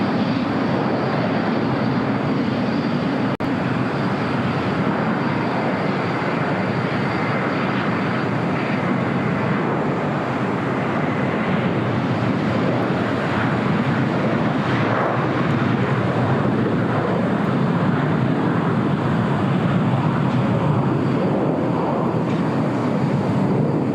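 A Super Airbus jet departing a runway at LAX, a long steady roar of jet engines that stays loud and fairly constant throughout, broad and washing, with no talk over it.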